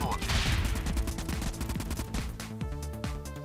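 Rapid gunfire bursts from vehicle weapons in the video game TF Convoy, dense and loud throughout with repeated sharp reports, mixed with game audio.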